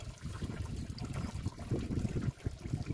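Coolant drains from a car engine with timing-belt damage, a soft, continuous trickle and dribble of liquid close by, fairly quiet and uninterrupted.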